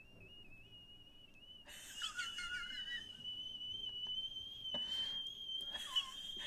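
A person whistles to imitate a tea kettle coming to the boil. The shrill tone starts thin and alone, then holds steady and wavers, with breathy bursts over it.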